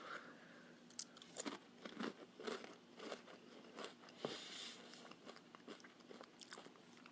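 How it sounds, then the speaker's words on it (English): Close, loud crunching from eating Taco Time tacos and chips in a mukbang, with repeated sharp bites and brittle cracks, then steady chewing and crackling across several seconds, no voices. "Do you guys hear like the crunching noises? This is like extreme crunch right here."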